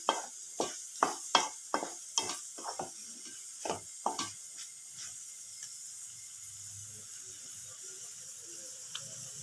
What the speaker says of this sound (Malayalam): ഉപ്പ് നല്ലതുപോലെ ഒന്ന് മിക്സാക്കി കൊടുത്തിട്ടുണ്ട്